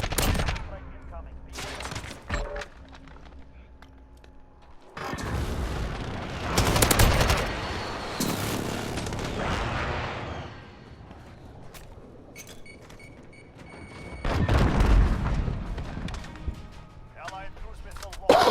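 Heavy gunfire and booming airstrike explosions from a Call of Duty: Modern Warfare match, loud bursts rolling over several seconds with bright crackling debris, separated by quieter stretches of game audio and radio voice callouts.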